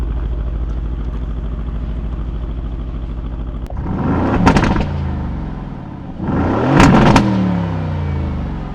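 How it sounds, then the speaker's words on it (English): A Mercedes-AMG V8 engine idles with a deep, steady burble, then revs hard twice in quick bursts, loud and close, before settling back to idle. "What you're hearing right there is the sound of a glorious AMG V8 engine."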